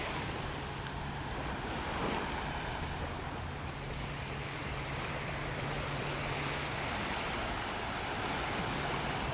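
Ocean surf rolls onto a beach in North Naples, Florida, on a morning walk: a constant, fairly faint wash of breaking waves with some wind rumble and no voices.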